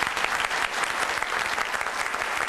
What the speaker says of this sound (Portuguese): recebeu aplausos.